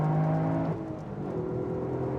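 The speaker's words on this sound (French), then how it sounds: "Le moteur est plus réactif, plus méchant." A Toyota GR Yaris or Honda Civic Type R FL5 accelerates on the road, its engine note climbing and then settling into a sustained whirring drone, heard close from inside the car with no talking.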